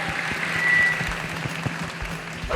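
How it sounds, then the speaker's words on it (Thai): A studio audience claps in welcome for a doctor, a short burst of moderate applause with scattered individual claps standing out, alongside a faint tonal whistle. "ขอเสียงปรบมือต้ยนรับคุณหมอพันศักดิ์สุนเริครับ"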